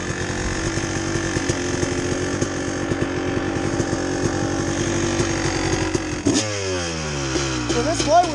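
A two-stroke dirt bike fitted with a flywheel weight buzzes steadily on a wet winter forest trail in Tahuya State Forest, then cuts out abruptly and comes back with a few rising, sweeping revs.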